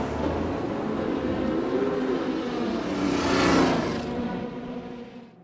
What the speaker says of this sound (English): We start the car back up, drop into first gear, and take off.